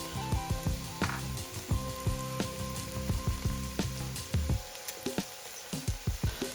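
Green onions, ginger, garlic, ground Sichuan peppercorn and chili peppers frying in a pan, with steady close sizzling and popping and the irregular scrape and clatter of stirring.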